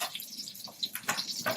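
Tap water runs into a pot in a kitchen during a German cooking class making spaetzle, a quiet splashing flow with small drips and no talking.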